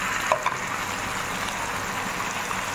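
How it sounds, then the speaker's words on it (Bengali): Potatoes and onion fry in a pan, giving a steady, even sizzling hiss that holds throughout with no talking. "আলু পেঁয়াজটা ভালো করে ভাজা করে নেবো।"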